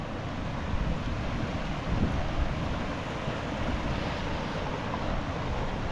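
Waterfall at Elliot Falls campsite in Queensland, a dense, steady rushing roar of falling water with some wind buffeting on the microphone, continuous and fairly close.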